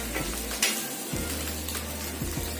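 Egg bhurji frying in a pan as a steady close sizzle, with occasional light scrapes of stirring.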